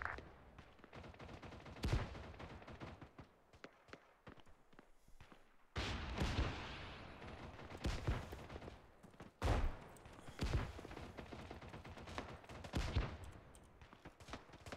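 A firefight in ArmA 3 with bursts of gunfire and sharp single shots, loud cracks scattered over a restless background of more distant fire. The intensity rises and falls irregularly throughout.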